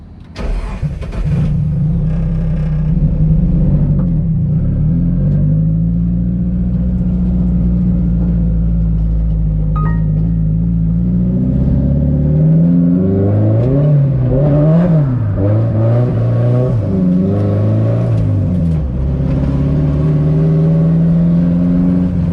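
An SR20-swapped Nissan S14 cranks and fires, then idles loud and close before revving and pulling away, with rising and falling engine pitch as it accelerates through gears.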